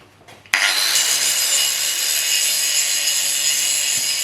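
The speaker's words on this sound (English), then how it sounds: "I'm just going to grind the welds to make the whole thing look cool." An angle grinder bites into the welds of a homemade fake silencer box for a rat rod exhaust, starting abruptly and then holding a loud, steady, harsh high-pitched whine close by.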